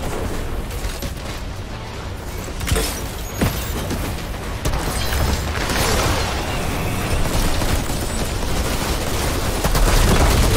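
Grenade blast in the Outriders looter shooter, heavy explosive bursts and gunfire crackling amid continuous combat noise, loud and dense, swelling toward the end.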